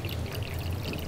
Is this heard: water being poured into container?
yes